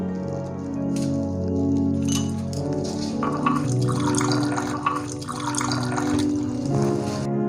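At home, water is fetched and poured into a glass, with a running trickle, small splashes and a few light glassy clinks over a sustained tonal backdrop, no one speaking.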